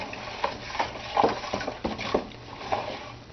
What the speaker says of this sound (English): take your stirring stick and just go ahead and do circular motions